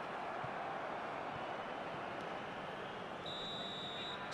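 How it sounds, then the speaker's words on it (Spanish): A referee's whistle in the eFootball 2024 football video game sounds as a sustained high tone near the end, over a steady wash of stadium crowd noise. "Suena el pitido del árbitro."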